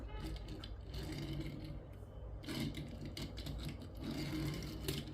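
A Hot Wheels Kowloon'd Hypervan toy van rolling along a surface in a roll test, giving a continuous close rattling, clicking wheel noise that swells and eases over a few seconds, no talk.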